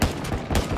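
Rapid gunfire in Call of Duty Warzone 2.0, a quick burst of three or four loud, close shots in a tight rhythm filling the short moment.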